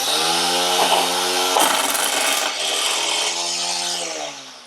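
A DEWALT 20V cordless string trimmer with a 13-inch cut and bump feed runs at a steady, loud buzzing whine that shifts pitch slightly as it works, then winds down at the end, with no speech.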